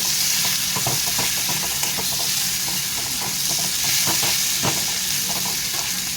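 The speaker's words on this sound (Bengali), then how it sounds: "দিয়ে এটাকে আমি লাল লাল করে ভেজে নেব" Onion fries in a wok of oil flavoured with prawns, sizzling hard and continuously while a utensil scrapes and stirs in quick, irregular strokes, close and loud, with no one speaking.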